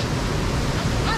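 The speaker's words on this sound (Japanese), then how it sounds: "そこめっちゃ流れきついから。" Strong rushing current of a mountain stream in a river gorge, a steady broadband roar of fast water that stays loud and continuous from start to finish.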